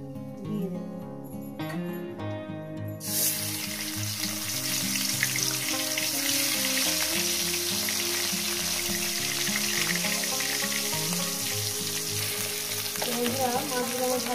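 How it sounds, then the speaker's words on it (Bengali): Fish pieces frying in hot oil for a Bengali fish curry give a steady, dense sizzle that swells in after a few seconds of music and continues loud under the background music. "মাছগুলো আমার ভাজা হয়ে গেছে"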